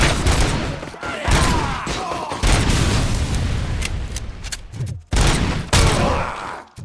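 Gunfire from the shooter RoboCop: Rogue City comes in heavy, booming bursts and rapid volleys, loud and close, with brief gaps between barrages.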